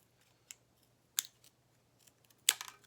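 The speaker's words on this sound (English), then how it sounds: "I just use scissors." Scissors snip through thin plywood in a few sharp, crisp cuts, spaced irregularly against a quiet background with a faint low hum.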